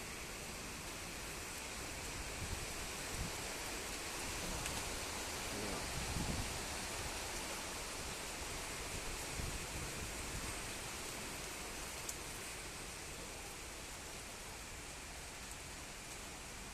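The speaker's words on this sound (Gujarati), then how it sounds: "ગુજરાતમાં વરસાદ ચાલુ થઈ ગયો" Steady, dense rain pours down continuously in Ahmedabad, a broad hiss of drops hitting surfaces close by, with no voices.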